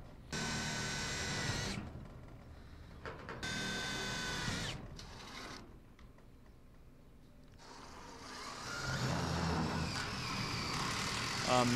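Metal shavings from self-tapping screws are blown off a metal carport during installation. Several long, loud hissing blasts of air sound close by, with breaks between them, then a rougher windy rush at the end.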